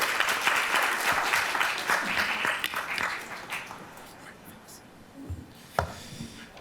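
An audience at a homelessness summit applauds, a burst of dense clapping that thins and fades away over several seconds, with a few scattered claps and a thump near the end.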